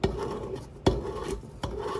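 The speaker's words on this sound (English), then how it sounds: "this soap, it grates real quick" Three rough rasping strokes, each starting sharply and fading, as soap is scraped across a grater close by.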